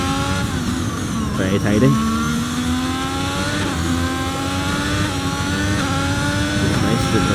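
A race car laps the Zandvoort circuit, its engine note rising and falling through gear changes and corners as it passes, with a commentator talking over it.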